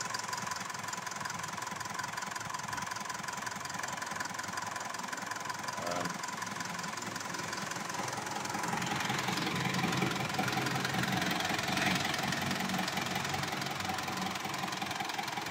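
A Mitsubishi Montero Sport engine runs steadily after an overhaul, a faint, even idle hum with light ticking and a slight rise in level midway, no speech.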